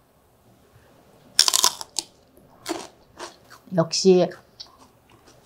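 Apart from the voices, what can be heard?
crunching celery dipped in homemade mayonnaise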